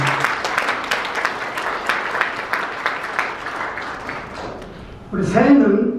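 Audience applause at a community association gathering: several seconds of steady clapping that thins out, then a voice starts speaking over the fading claps.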